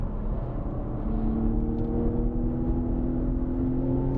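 A BMW M car accelerates around Sonoma Raceway, its engine note rising steadily in pitch as it builds power, loud and close from inside the cabin, alone without talk.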